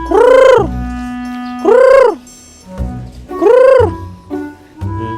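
Three loud, drawn-out squawking calls from a chicken, each rising and falling, separated by short pauses with faint clucks and noises between them.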